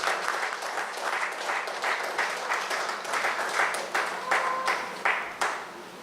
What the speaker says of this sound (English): Yeah, man, a round of applause.